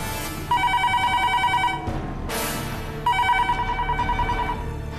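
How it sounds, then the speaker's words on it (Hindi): A telephone rings unanswered at home, two clear bursts of repeated electronic ring tones separated by a short pause, close and loud with no voices. "आजी भी फोन नहीं उठा रही, कहाँ गए ये लोग?"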